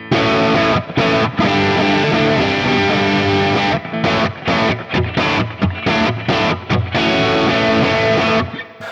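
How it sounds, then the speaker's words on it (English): An electric guitar runs through a Fractal amp modeler with a slightly broken-up plexi-style tone, playing loud sustained crunchy chords and then a choppy riff of short stabs and brief silences. "A nice kind of slightly broken up plexi style tone."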